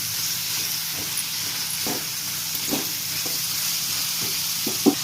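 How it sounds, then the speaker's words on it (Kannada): Chicken stirred in a pan with turmeric and rock salt for a chicken pepper fry with baby corn: soft continuous sizzling beneath a series of irregular spatula scrapes and knocks, with one sharper clink near the end. "ಅರಿಶಿನ ಉಪ್ಪು ಹಾಕಿದ್ಮೇಲೆ ಚೆನ್ನಾಗಿ ತಿರುಗಿಸ್ಕೋಬೇಕು"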